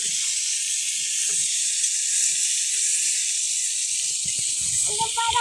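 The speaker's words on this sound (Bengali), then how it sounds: "তো এখন আলু ভাজছে, মাংসের আলুটা একটু ভেজে নিচ্ছে।" Potatoes for a meat curry fry in oil in a pan over a clay stove, giving a steady, loud hiss that runs unbroken throughout, with faint clatter and knocks underneath.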